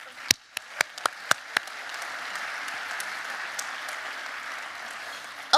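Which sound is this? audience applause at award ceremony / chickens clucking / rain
audience applause at award ceremony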